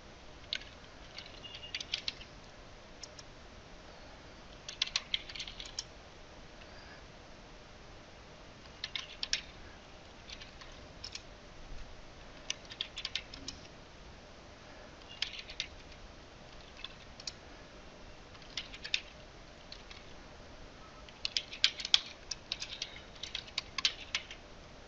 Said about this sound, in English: Now type the password.